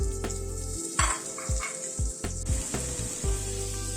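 Chopped tomatoes go into a pan of frying spices with Kashmiri chilli powder and turmeric, raising a close, steady sizzle punctuated by a clatter and a series of rhythmic scraping stirs, with no one speaking.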